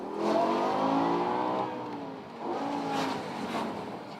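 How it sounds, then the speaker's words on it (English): A stock BMW M5 E60 exhaust revs hard, its engine note climbing and holding loud and close, then easing off before rising again in a second, somewhat lower burst. "we're gonna rev the car, and we're gonna see if we can get reaction from people on the noise that my stock M5 exhaust makes"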